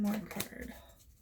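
A tarot card is drawn from the deck with a brief, soft papery slide and flick, close and quiet, as a voice talks over it.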